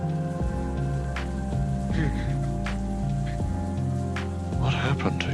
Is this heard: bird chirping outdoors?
no